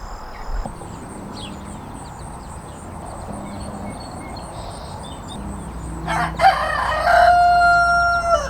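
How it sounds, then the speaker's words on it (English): Backyard coop chickens cluck softly through the first part, then a rooster lets out a loud, close crow near the end over a low background hum. "I'm in with the chickens."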